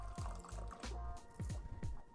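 Water and rice vinegar poured for a sweet chili sauce, giving soft, close trickling and splashing with faint drips and a few brief bubbling gurgles.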